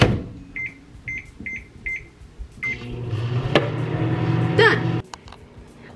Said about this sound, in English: Microwave on high for